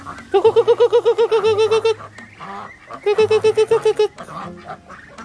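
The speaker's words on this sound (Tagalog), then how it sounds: "ito po ang ating mga pato" Loud, close honking quacks from ducks in two rapid rhythmic bursts, with a short pause of softer calls in between.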